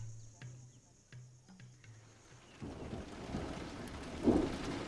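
Rain and distant thunder in the Machakos district of Kenya: a low rumble and scattered knocks give way to a rising wash of steady rainfall, with a louder rumble near the end and faint insects early on.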